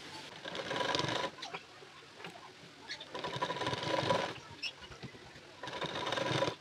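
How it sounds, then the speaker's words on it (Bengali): A sewing machine runs a pressed stitch along a folded fabric edge of a designer nightgown, in three bursts of rapid whirring stitching with brief pauses and light handling noises between them. "এই কানা বরাবর করে একটা চাপ সেলাই দিয়ে নেবেন"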